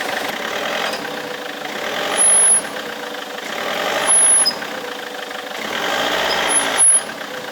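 A vehicle engine running steadily while reversing to tow a stuck caravan back toward a hedge, a mid-pitched drone close by that swells briefly three times, with high squeals and no talk.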